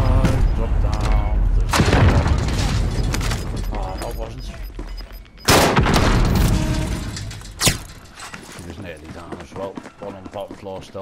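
A frag grenade detonating in a shooter video game amid ongoing gunfire, with loud broadband blasts at irregular intervals and a heavy low boom, while players talk over the action.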